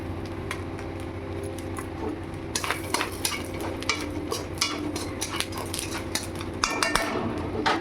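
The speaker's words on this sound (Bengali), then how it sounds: "মৌরিটা ফোড়ন দিয়ে দিলাম।" Fennel seeds sizzle in hot oil for tempering, a steady frying hiss overlaid with sharp clinks and scrapes of a utensil stirring in the pan, growing busier partway through.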